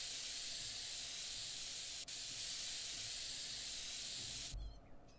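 Steady close spray-paint hiss coating a wooden fish in a woodworking simulator game, one continuous broadband blast lasting several seconds before cutting off, no voices.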